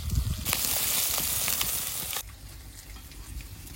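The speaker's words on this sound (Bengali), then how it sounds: "তোমার মাছ কত দূর ভাজা হলো?" Fish sizzles in a hot pan during village cooking, a steady hiss of frying oil that drops abruptly to a quieter simmer partway through, with faint kitchen sounds and no speech.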